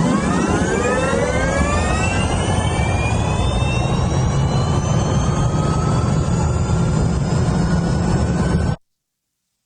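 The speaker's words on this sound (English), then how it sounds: "So he was sort of making the engine sounds." A synthesized engine sound made for Jaguar electric cars rises in a smooth, whooshing jet-like sweep, its tone climbing steadily and holding loud before cutting off abruptly near the end.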